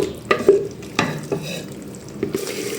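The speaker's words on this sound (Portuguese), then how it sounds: "Meu molhão aqui já tá bem refogado." A spoon scrapes and stirs a sautéing sauce in a pan for a sardine escabeche, giving a few distinct clinks and scrapes over a soft sizzle, close and unaccompanied by talk.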